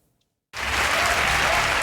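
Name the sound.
applause at end of Democratic debate in Iowa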